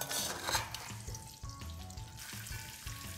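A whole Moroccan spiced chicken is flipped in a pan and sizzles, with a steady, fairly quiet frying hiss and a few soft thuds and scrapes as it is turned. No one speaks.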